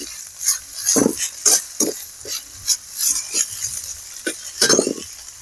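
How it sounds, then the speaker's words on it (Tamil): Sandi keerai greens sautéing in a pan, with repeated bursts of stirring and scraping over a soft, steady sizzle, close and fairly loud. "கீரை நல்லா வதங்கிட்டு இருக்கு"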